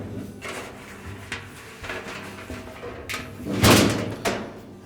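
An Amana dryer drum is pulled out of the cabinet and set aside during repair, with scraping and rubbing metal movement and a louder thump near the end, heard close with no talk.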